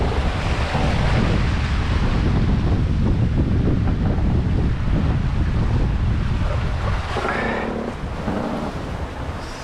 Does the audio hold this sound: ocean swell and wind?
yes